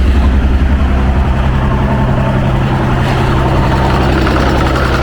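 An MG ZS 180 with a 2.5 V6 and a power flow exhaust idles loud and close, a dense steady rumble with a faint uneven lope and no voices over it.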